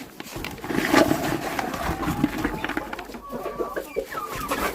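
Chickens cluck and murmur close by in short, uneven bursts while eating boiled grain, with soft pecking and rustling noises underneath.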